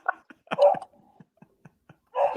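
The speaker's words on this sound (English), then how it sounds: "Shut that dog up." Dog barking in a home during a live football match reaction broadcast, a few sharp close barks and yips in quick succession with short gaps between them.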